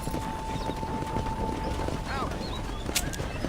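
Horses pull a stagecoach in the western video game Red Dead Redemption, a continuous rhythmic clip-clop of hooves with rumbling wheels and faint background voices.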